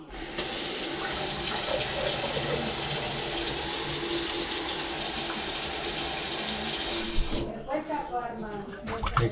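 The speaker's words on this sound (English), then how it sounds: "You can see the water backing up there." Water rushes and splashes steadily into a clogged basement kitchen sink that is backing up, loud and close for about seven seconds. The flow then stops and the water gurgles and sloshes quietly.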